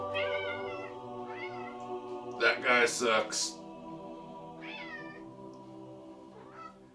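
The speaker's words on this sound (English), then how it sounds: "So does that cat that's meowing in our shot." A cat meows several times, short and mid-loud, while a person speaks briefly over it.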